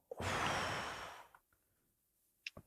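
A single deep, audible breath drawn close to the microphone, a long airy exhale lasting about a second, followed by quiet and a couple of faint small sounds.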